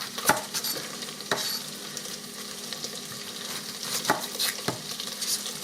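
Bacon sizzles and fries in an electric pressure cooker, a soft steady crackle close by, broken by a few sharp clinks of a utensil stirring against the pot.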